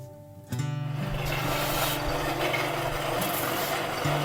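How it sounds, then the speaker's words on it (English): An edge sander grinds the fiberglass limb edges of a handmade stick bow down to a scribed line. It kicks in abruptly, then runs as a loud, steady, rasping grind with a constant motor hum underneath. "The limbs are trimmed close to the scribed line and then taken to the edge sander to grind the rest of the way to the line."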